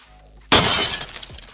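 In MIR4, a treasure item shatters with an abrupt, bright crash of breaking glass that bursts out of near silence, then trickles off into scattered tinkles.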